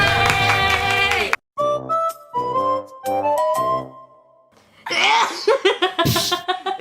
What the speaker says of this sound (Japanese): 女の子の可愛いくしゃみを出してみたー